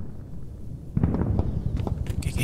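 Automatic gunfire in a WW2-themed mobile first-person shooter on Android: a rapid, fairly close burst of cracking shots that begins about a second in and rattles on to the end over a low background hum.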